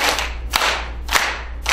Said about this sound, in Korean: 손바닥을 내미시고 박수를 치는데 자 하나 둘 셋 넷